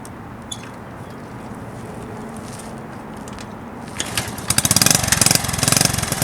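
1970 Honda CT70 motorcycle kick-started, faint low background at first, then the small engine catches and runs with a rapid, loud, popping idle close by.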